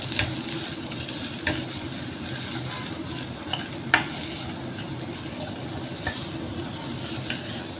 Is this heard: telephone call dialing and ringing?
no